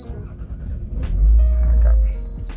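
A Toyota Estima fitted with a SmartKey keyless push-button start fires up, its engine turning into a deep steady rumble under a voice.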